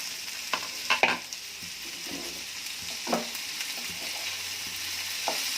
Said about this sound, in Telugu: ధనియా పౌడర్ నూనెలో రోస్ట్ అయితే టేస్టీగా బాగుంటుంది, స్మెల్ను బాగా వస్తుంది అన్నమాట